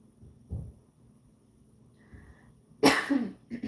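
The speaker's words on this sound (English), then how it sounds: "since I got back from the hospital, I had this very weird cough, but I'm not sick" A woman knitting on a livestream coughs from a tickle in her throat, a soft throat sound early, then a burst of harsh, loud close coughs near the end after a faint high tone.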